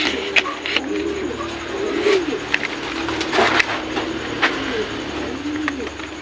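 Pigeons cooing in a loft, repeated soft throaty coos rising over a low background hum, several birds calling close by with light rustling between calls.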